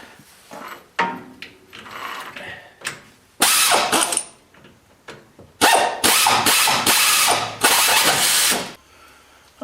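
A ratchet works a badly rusted nut on a Ford E-350 van during ball joint, tie rod end and wheel bearing work, with loud bursts of harsh clicking and grinding separated by quieter pauses, close to the microphone.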